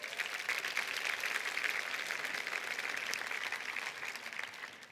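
A roomful of women at a conference applauding, dense sustained clapping that holds steady and then begins to thin out toward the end.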